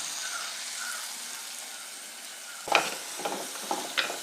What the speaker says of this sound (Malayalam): തക്കാളി ഒന്ന് ചെറുതായിട്ട് മൂത്ത് വരുമ്പോഴത്തേക്കും നമുക്ക് പൊടികളൊന്ന് ചേർത്ത് കൊടുക്കാം.